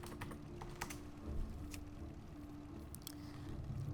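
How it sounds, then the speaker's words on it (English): Rapid clicking of keys on a computer keyboard, close and fairly quiet, in irregular bursts over a low steady background hum. "Gotta learn how to type."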